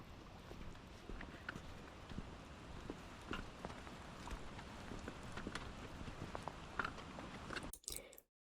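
Rain patters steadily in the Japanese mountains near Yatsugatake, a dense soft crackle of drops on surfaces with occasional sharper ticks, close and continuous until a brief rustle at the end.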